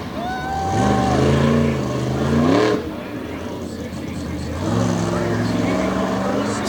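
A monster truck engine on a big air trick run at Lake Erie Speedway, revving hard in rising and falling surges with a pause between them. A commentator talks over the engine.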